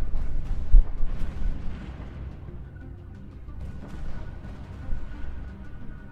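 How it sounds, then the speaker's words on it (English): Space battle explosions in the Stellaris strategy game sound as deep, rumbling booms, with a sharp blast near the start and further muffled detonations rolling underneath, no talking. "I'm seeing explosions."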